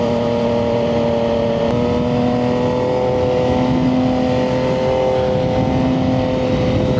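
A Triumph 675SS motorcycle fitted with a full IXIL exhaust holds a loud, steady idle-to-rev drone with a brief jump in pitch early on, sounding close and alone.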